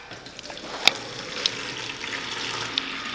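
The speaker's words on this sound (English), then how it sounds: "The first thing you add is water." Water running into an empty paint production tank at the start of making emulsion paint, a steady broadband hiss of flow with a few brief splashy clicks, fairly close and moderately loud.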